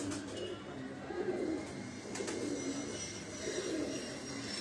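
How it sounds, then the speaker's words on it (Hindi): A male Lakha pigeon coos softly in a low, repeated rhythmic burble, several rounds close by and fairly faint, with light background noise. "ये वासे भाई बता रहे हैं कि ये लाखा कबूतर है"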